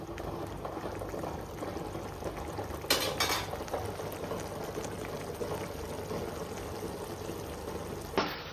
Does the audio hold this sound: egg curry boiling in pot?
yes